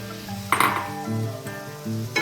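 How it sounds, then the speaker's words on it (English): Tomatoes hit a hot pan of fish gravy with a brief loud sizzle, followed by clinks of a utensil against the pan and a softer continuing fry, close up and without speech. "We're going to add in our tomatoes."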